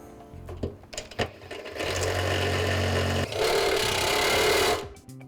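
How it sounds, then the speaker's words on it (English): Power drill boring a lubricated bit into a car's oil pan to fit a hose spigot, a steady whining grind that holds for several seconds, briefly drops, then resumes louder and rougher before stopping. "That should keep our bit nice and cool while I try to drill into this hole"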